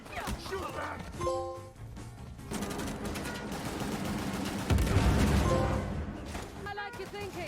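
Rapid bursts of gunfire and heavy crashes from the action game Uncharted: The Lost Legacy fill the scene continuously, loud and dense, with voices speaking over the combat.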